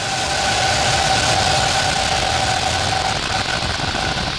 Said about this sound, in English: Ignition. Liftoff. Go Falcon.